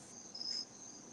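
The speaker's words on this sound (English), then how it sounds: "Did somebody play crickets?" Crickets chirp as a played sound effect, a faint steady trill with one brighter, sharper chirp in the middle, heard alone with no talking.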